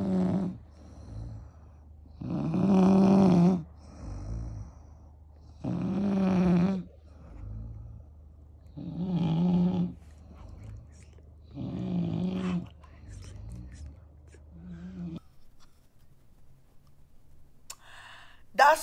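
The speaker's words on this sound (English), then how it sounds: "That's snoring." A sleeping person snores in slow, regular cycles, with about six loud, rumbling breaths spaced a couple of seconds apart over a steady low hum, then the snoring stops.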